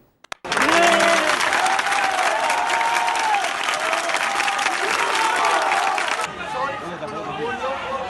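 A room of police officers bursts into loud, dense applause that starts abruptly and holds steady for several seconds before dropping to a quieter patter, with voices murmuring underneath.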